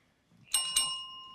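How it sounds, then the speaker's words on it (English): A small bell rings twice in quick succession at the end of a quiz round, two bright dings whose tone rings on and fades, clear against a quiet room. "Bell signals the end of that round."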